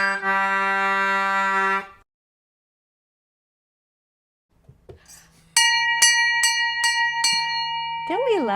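A bell is rung on board a cruise ship at sea: one long ringing tone fades into silence, then a loud run of rapid, evenly spaced clangs rings out close by.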